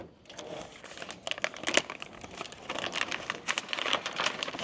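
A crinkly plastic sheet is peeled back by hand, making irregular crackling and crinkling bursts, fairly close and moderately quiet, with no talking.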